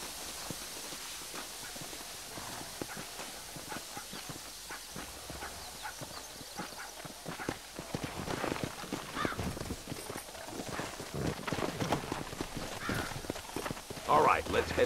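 In the video game Red Dead Redemption, horse hooves clip-clop in a steady rhythm, growing louder as the horses ride along, with a voice speaking over them.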